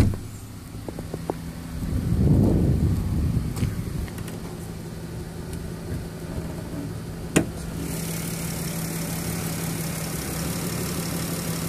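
A 2015 Dodge Grand Caravan engine idling steadily, a low continuous hum with a fan-like whir, a brief swell early on and a sharp click partway through, no talking.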